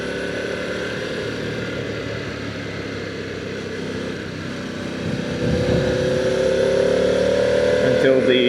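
A 2024 Harley-Davidson Pan America engine drones steadily while riding, a continuous mid-pitched hum with wind noise that swells slightly louder partway through as the bike accelerates.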